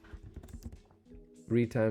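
Quick clicks of typing on a computer keyboard tap out a short burst, then a voice begins speaking over the quiet room.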